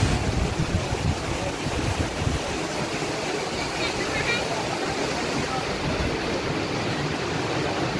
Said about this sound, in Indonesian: kita lihat airnya sangat deras, sahabat, hitam pekat